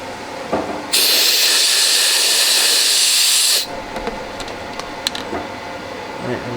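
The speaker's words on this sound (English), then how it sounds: "So I'll give it a quench." Hot welded metal from a front wing repair is quenched in water, a loud, steady burst of hissing steam lasting a few seconds, then fading into quieter clicks and handling noises.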